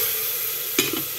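Carrots fry in hot oil with a steady, close sizzle, broken by one sharp scrape of a utensil stirring them and a softer stir just after.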